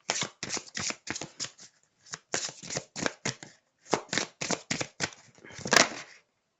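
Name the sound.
shuffling oracle cards to draw a synchronicity card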